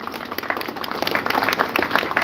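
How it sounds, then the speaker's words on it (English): A protest crowd on Cork's Grand Parade breaks into applause, a dense patter of many hands clapping at once, steady and fairly close for a couple of seconds. "give a big applause"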